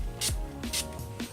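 Setting spray is misted onto a makeup brush in three short, close hissing bursts at a steady rhythm, over a faint hum.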